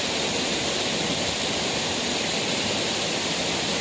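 Waterfall at Pasukin spring in Ilocos Norte, a steady broad rushing roar of falling water, continuous and even throughout, fairly close and with no talking.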